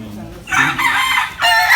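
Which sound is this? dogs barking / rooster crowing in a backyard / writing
rooster crowing in a backyard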